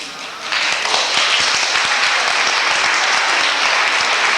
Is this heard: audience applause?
yes